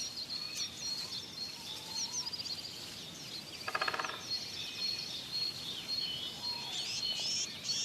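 Wild birds call and sing in Bohemian wetlands, with faint high chirps and whistles scattered over a quiet background and a short burst of rapid calls near the middle.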